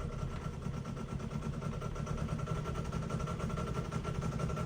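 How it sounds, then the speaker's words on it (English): John Deere 6420 tractor engine misfiring under throttle, as if running on about half its cylinders: a steady, rough, low rumbling drone that holds fairly constant throughout, close by, with no talking. "Sounds like it's only running on about half the cylinders."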